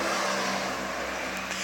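A car passes nearby with a steady broadband engine and road roar, fairly even in level, and no voices.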